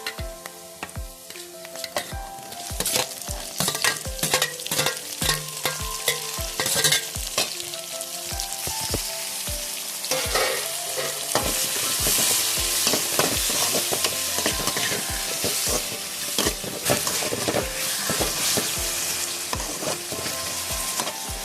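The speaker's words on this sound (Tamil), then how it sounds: "வெங்காயம் கொஞ்ச நேரமாக வதங்கிடுச்சு. இப்போ தக்காளி போடுறேன்." Tomatoes frying with softened onions in a pan for country crab gravy, a steady loud sizzle of oil that swells partway through, punctuated by frequent knocks and scrapes of a stirring spoon, with no one speaking.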